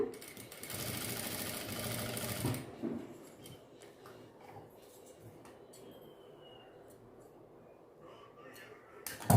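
A sewing machine stitches a small doll dress in a fast, buzzing burst for about two and a half seconds, then stops, leaving quiet handling clicks and faint rustles nearby.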